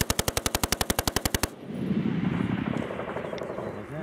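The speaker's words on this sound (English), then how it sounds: "You got small fire to the east." A rapid burst of about fifteen evenly spaced small-arms shots rings out in Afghanistan, loud and close, then gives way to a continuous low roaring rumble with no speech.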